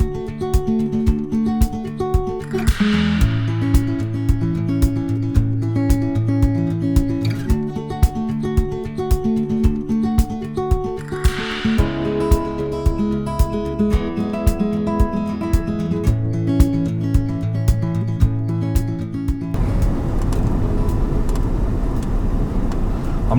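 A Range Rover TDV8 drives on the road, its engine a steady droning hum with a shift in pitch partway through, under a continuous rhythmic clicking pattern, with no talking.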